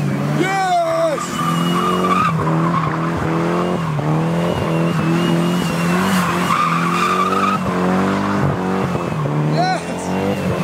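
At a drifting track, tires squeal in long, wavering screeches as a drift car slides around a cone with its engine revving hard, while excited voices shout over the noise.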